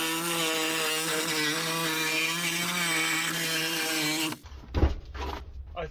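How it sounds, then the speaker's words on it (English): A Sawzall reciprocating saw cuts through a junkyard van to free the transmission, buzzing loudly and steadily, then stops abruptly and leaves a few clanks and shuffles. "Started cutting with the Sawzall."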